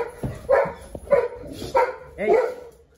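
A dog barks at a small bird, giving four sharp barks at a steady rhythm about half a second apart, fairly close and loud, with a little yipping between them.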